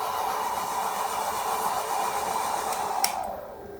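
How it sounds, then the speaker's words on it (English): A hair dryer running off an EcoFlow RIVER Pro portable power station blows with a steady, loud airy roar, its pitch wavering slightly as it strains, then a sharp click and the whir drops and thins out. "The hair dryer is like kind of freaking out"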